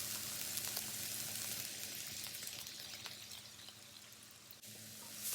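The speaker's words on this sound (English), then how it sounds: "So for the pork, put in a pan with a little bit of oil, add some black pepper, stir fry for a minute." Pork with a little oil and black pepper is stir fried in a pan, giving a continuous faint sizzle with light stirring scrapes and no talking.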